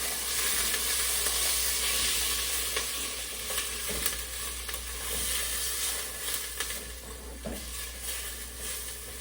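Garlic sizzles and spits steadily in a hot pan as it is kept moving, with loud continuous frying hiss and occasional scrapes of stirring, no voices over it.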